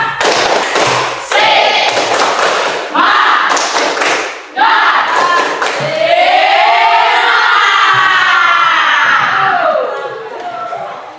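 A school class in an Islamic religious education lesson does a rhythmic spirit clap, with loud sharp bursts of clapping in a set pattern, then voices chant and shout together in a long rising and falling cry.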